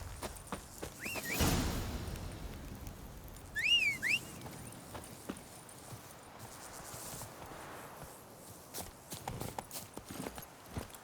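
Horse hooves clip-clopping in The Witcher 3 on PS5, a steady rhythmic run of hoofbeats with a short whistle and a whooshing gust, heard alone at moderate volume.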